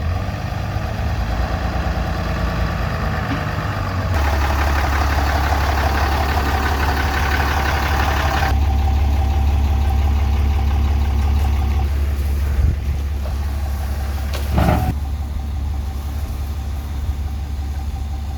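An RV engine drones loudly and steadily as it pulls out of a driveway, a deep sustained hum that shifts in pitch partway through, with a couple of brief knocks near the end.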